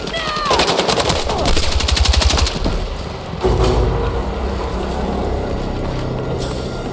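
Battlefield 6 gunfire during the night raid mission: loud, rapid bursts of automatic fire up close, then a dense rumbling barrage of continued shooting and battle noise.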